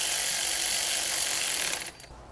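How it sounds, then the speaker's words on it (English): Ratcheting power tool driving the front bolt on a Ford F150 cam phaser, a bright continuous buzzing rattle that cuts off sharply near the end, close with no voices. "So I am gonna put the bolt on the front, lock it in place."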